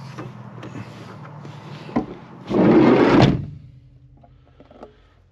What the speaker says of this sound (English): what I'm going to do now is close the side door and see how dark it actually gets.